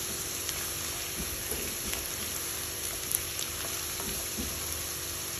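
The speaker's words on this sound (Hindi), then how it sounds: "दो मिनट फ्राई करेंगे और फिर हम इसमें डालेंगे टमाटर" Cashews and other paneer butter masala ingredients frying in a pan give a dense, even sizzle and crackle with occasional soft stirring, close by and steady, without talk.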